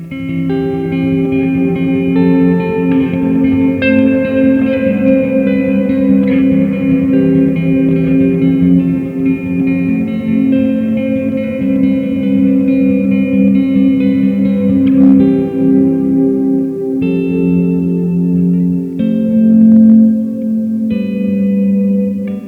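Electric guitar chords through a Walrus Audio Fundamental Ambient pedal in Deep mode, drenched in deep, washy reverb, notes blooming and sustaining into a thick ambient swell, loud and continuous throughout.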